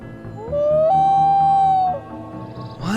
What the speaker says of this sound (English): Loon. The loon.